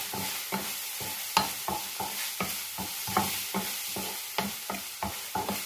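Squash and tomato with black pepper and seasoning powder being stirred in a frying pan, steady sizzle broken by about a dozen regular scraping strokes from the spoon, close and clear with no voices.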